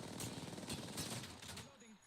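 Rapid automatic gunfire crackles in Apex Legends in a dense, steady stream of shots for about two seconds, tapering off at the end, with a voice faintly underneath.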